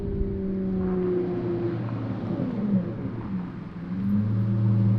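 A Lamborghini Murciélago V12 drones low and steady in open country, its pitch sliding down and back up as it draws nearer and grows louder toward the end.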